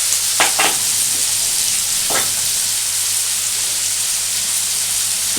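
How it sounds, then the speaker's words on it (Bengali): Masala eggplant with green chilli frying in a pan, with a steady sizzle and hiss throughout and a few short scraping stirs near the start and middle. No voices. "একটু দেখো নাড়াচাড়া করছি।"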